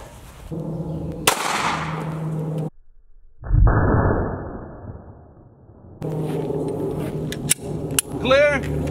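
A Glock 43 fires a 9mm hollow point into stacked sheet metal, giving a loud, sharp report with a ringing decay, set among muffled background noise, handling sounds and voices.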